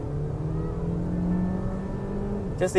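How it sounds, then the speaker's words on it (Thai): A 2022 Mercedes-Benz GLA200 Progressive with a 7G DCT gearbox pulls hard under full throttle in normal mode, a steady loud engine drone filling the cabin with a sharper change near the end. "ผมเหยียบหมดคันเร่งเลยนะ ที่โหมดโนมอลนะครับ"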